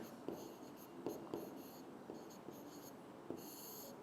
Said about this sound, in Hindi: डिटर्जेंट पाउडर भी लिख देता हूँ